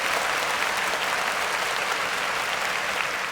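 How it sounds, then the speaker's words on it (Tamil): Sustained audience applause welcoming a speaker onto the stage at a televised Tamil Independence Day debate show, a dense, steady wash of many hands clapping with no talk over it. "உங்களது கைத்தட்டலோடு அழைக்கிறேன்"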